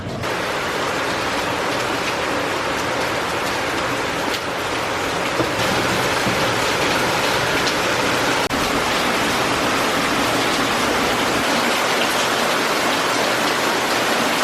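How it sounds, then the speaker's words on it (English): Heavy rain pours steadily, a dense constant hiss of water hitting surfaces, loud and unbroken for the whole stretch. "But it's raining, so I guess we need to do something to wait for the rain."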